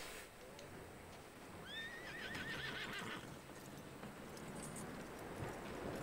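A horse in the video game Red Dead Redemption 2 whinnies once with a high, wavering neigh, followed by soft hoof clip-clops against a quiet background.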